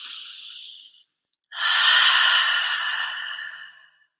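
Deep breathing during a guided meditation, with a soft drawn breath, a brief pause, then a longer, fuller airy exhale that slowly fades. Nobody speaks.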